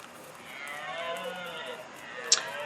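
A creature moos in the Ark Survival Evolved video game, giving one drawn-out, low, wavering moo that lasts about two seconds, followed by a brief sharp click near the end.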